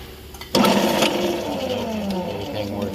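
A Ridgid 1822i pipe threading machine motor starts abruptly and runs in reverse, a loud, steady mechanical whir with a falling whine as it settles, close by, with brief talk.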